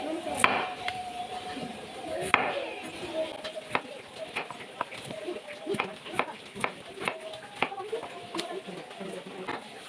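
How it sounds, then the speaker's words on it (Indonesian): Potatoes are chopped with a knife on a board for fried potato patties, a steady run of sharp, fairly quiet taps repeating for several seconds under faint background noise, with occasional softer knocks between cuts. "Sekarang kita potong-potong dulu kentang ini"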